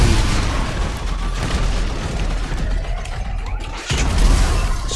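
Missile launches and blasts in GTA5, a loud continuous barrage of booms and mechanical clanks with a brief dip near the end before the rumbling resumes, with no talking.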